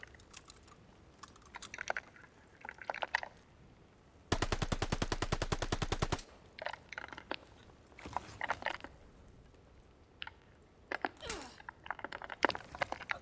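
Rapid automatic gunfire in Call of Duty, one sustained burst of about two seconds amid quieter keyboard and mouse clicks, close and loud with no speech.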